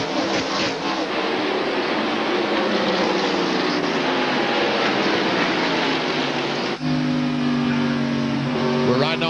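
NASCAR stock cars race at the 1998 Autolite Platinum 250, heard from an onboard camera in Hermie Sadler's car: a loud, continuous engine roar with rising and falling revs, sharpening into clear high whines as gears shift, and a commentator's voice underneath.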